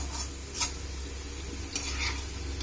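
Shredded cabbage fries in a pan, with a soft steady sizzle broken by a few brief scraping strokes of a spatula stirring it, faint and close.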